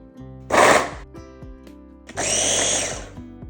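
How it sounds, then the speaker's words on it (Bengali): Washed garlic cloves are minced in an electric chopper in two short, loud whirring bursts, the motor revving up and cutting off with a brief pause and faint clicks between. "রসুনগুলোকে চপারের মধ্যে দিয়ে আমি ভালো করে কুচিয়ে নেব"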